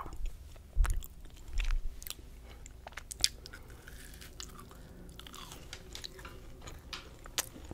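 Close, crisp crunching bites and chewing of a chocolate cookie with a crunchy outside and gooey inside, a few sharp crunches early then softer steady mastication, no talking.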